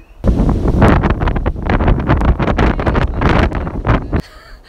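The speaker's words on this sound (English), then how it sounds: "it was a very windy day" Heavy wind buffets the microphone in loud, rumbling gusts, continuous and close, ending abruptly, in Perth, Western Australia.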